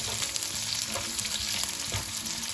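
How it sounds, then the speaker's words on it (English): Garlic and onions frying in hot oil in a wok: a close, dense crackling sizzle with scattered pops and light stirring scrapes. "you can now add in the onions"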